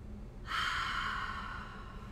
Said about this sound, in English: Inhale through the nose and exhale out through the mouth.